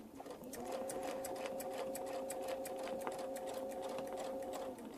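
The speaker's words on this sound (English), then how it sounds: "stitching across that 1/4 inch" A sewing machine runs steadily, stitching fabric across a quarter-inch seam while piecing a mini Baptist fan quilt block, a close, even motor whir with rapid needle ticking that starts after a brief pause and runs nearly five seconds.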